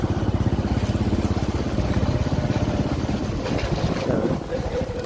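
Riding a motorcycle toward the Singaparna market: heavy wind buffeting roars against the microphone over a throbbing, close engine pulse that holds steady throughout.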